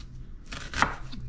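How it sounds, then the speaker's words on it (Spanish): A knife cuts through half an onion on a board, a few quick crisp chops clustered together, with the loudest stroke in the middle and no speech. "necesité media cebolla más, esta la voy a partir en unas"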